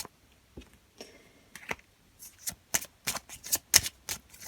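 A small classic Lenormand card deck is shuffled and cut, a series of crisp close riffles and snaps that grow denser and louder toward the end.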